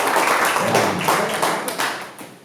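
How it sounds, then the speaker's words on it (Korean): A seminar audience at a Bitcoin Satoshi (BTCs) Pioneer Group workshop forum claps in a brief, dense burst of applause that fades toward the end. "여기 박수 한번 쳐주셔야 돼요."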